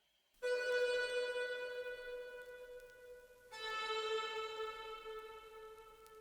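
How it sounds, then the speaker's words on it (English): Two plucked sitar one-shots ring out in an FL Studio R&B beat, each a bright, twangy note with a long buzzing decay, the second arriving about three seconds after the first, with nothing else playing. "So I started with this. I think it's called a sitar."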